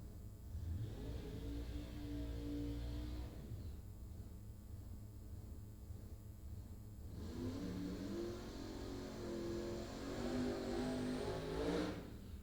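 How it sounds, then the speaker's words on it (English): The supercharged engine of a Camaro race car surges and revs at a drag strip, the blower rising and falling in two swells heard at a distance against steady background noise. "you can just hear the blower surge on Randy's Camaro there"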